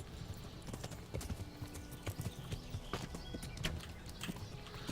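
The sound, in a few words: horse hooves while riding on horseback in Kingdom Come: Deliverance video game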